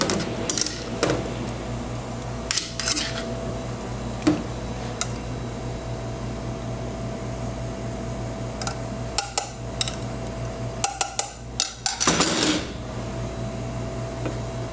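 Veal chops are plated in a kitchen, with a few sharp clinks and scrapes of dishes and cutlery over a steady hum of kitchen machinery, the clatter bunching together near the end.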